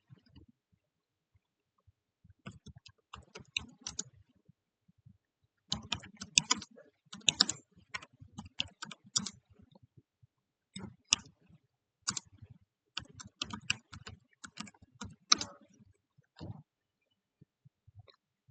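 Ad text goes onto a computer keyboard in quick, uneven bursts of close key clicks separated by short pauses, with no talk, in a quiet room.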